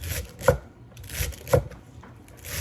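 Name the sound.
knife chopping celery thinly for salad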